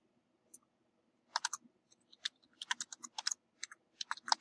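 Typing on a computer keyboard: quiet clusters of key clicks in uneven bursts, close and isolated, with no talking.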